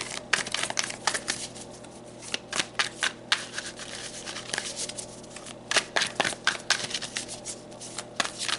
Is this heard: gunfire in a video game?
no